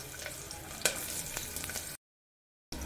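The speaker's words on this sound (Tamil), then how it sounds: "பெருஞ்சீரகம் நல்லா பொரிஞ்சிச்சு." Fennel seeds fry in hot oil with a faint, crackly sizzle and a few sharp pops before the sound cuts out to silence.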